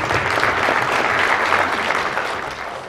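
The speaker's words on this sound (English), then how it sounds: "Please give a round of applause to them." Audience applause fills a crypto and blockchain conference hall, a dense, steady wash of many hands clapping at once, loud and close, tapering slightly toward the end with no talk over it.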